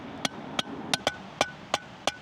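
Seven sharp strikes of a rubber mallet at an uneven pace while installing landscape lighting, each a short dull knock over a faint background hiss.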